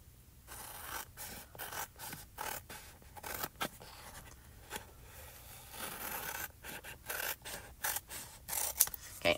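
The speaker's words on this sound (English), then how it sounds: "cut this so I don't have any waste" Scissors snipping through die-cut paper at a craft table, a series of soft, close, irregular cuts and rustles spread across the stretch with no talking.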